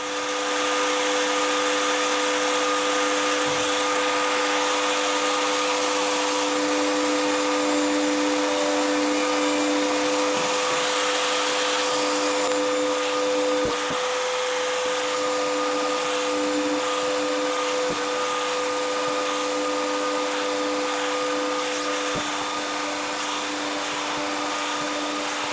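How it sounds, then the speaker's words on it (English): A chamfer mill mounted in a router table deburrs and bevels drilled holes, giving a loud, steady motor whine with a constant tonal hum that runs unbroken throughout, with no talking. "I used my chamfer mill to deburr the holes and gave them a nice bevel."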